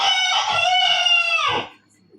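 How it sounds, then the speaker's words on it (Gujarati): A single rooster crows once, close and clear, its long, drawn-out call fading into near silence. "કળિયુગના કુકડા ગમે તારે બોલે."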